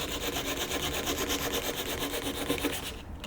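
A Mighty Nokko pull saw cuts through balsa wood in quick rhythmic rasping strokes, steady and close, at moderate volume, fading off at the end with no voices.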